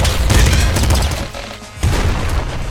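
SMG and assault rifle fire in the video game Nuclear Throne comes as dense, loud rapid bursts, broken by one brief lull before the shooting resumes.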